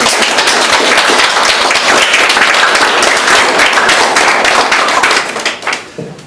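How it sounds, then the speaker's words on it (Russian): Loud, dense audience applause at a certificate ceremony for Kherson university students honoring a Polish guest, close crowded clapping sustained for several seconds before thinning out and fading. "Под ваши, конечно, благодарные аплодисменты, пан Богдан"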